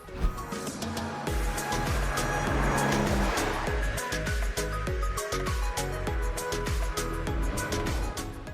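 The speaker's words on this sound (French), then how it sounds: "c'est parti pour un tour de circuit avec le nouveau coupé 911 Carrera S" A Porsche 911 Carrera S coupé lapping a race circuit, its engine roaring steadily and close with rapid rhythmic pulses as it revs through the gears, loud throughout.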